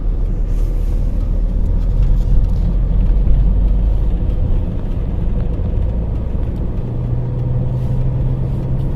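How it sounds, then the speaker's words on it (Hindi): A car creeps slowly along a road at night in dense winter fog, its engine a steady close low rumble that stays level throughout, with no voices. "रेंगते हुए गाड़ी जा रही है एकदम।"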